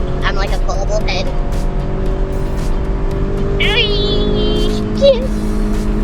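A stock R53 Mini Cooper driven hard on a race track, its engine droning steadily and loudly throughout, with brief tire squeal and people talking over the noise.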